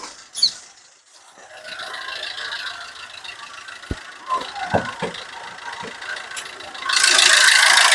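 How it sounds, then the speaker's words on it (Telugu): A 2010 Maruti Swift Dzire VDi diesel engine idles with a steady mechanical hum and rattle, with a few sharp knocks midway and a louder broadband rush near the end. "ఇంజిన్ రన్నింగ్ లో ఉన్నదండి"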